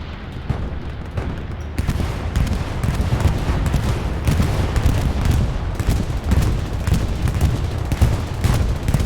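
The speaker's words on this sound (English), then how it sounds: "Bombing run coming in." Bombing run explosions rumble through the battlefield in Hell Let Loose, a dense, continuous barrage of booms and crackling blasts that roll on without pause, loud and close throughout.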